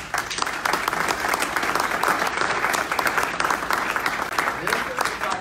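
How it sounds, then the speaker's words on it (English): Audience at a community update meeting breaks into steady, full applause, many hands clapping continuously and evenly for several seconds with no talk over it. "Let's give her a big round of applause."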